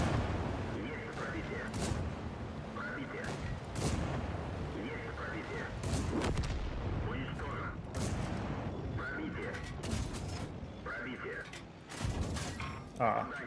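Tank cannon shots boom repeatedly in the World of Tanks video game, sharp blasts every second or two over a constant rumble of engine and battle noise, with a voice talking now and then.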